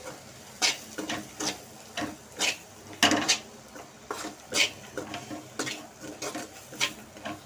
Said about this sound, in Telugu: ఇప్పుడు బాగా కలబెట్టుకున్నాము.